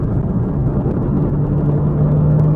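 A BMW M2 driving on the road, heard as a steady, loud low engine drone and rumble from inside the car, with no voices.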